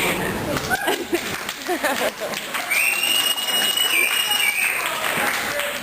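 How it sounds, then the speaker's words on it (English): Band members clap for the audience at a show, a dense patter of hands over a noisy hall with crowd voices and chatter mixed in throughout. "We'll clap for you."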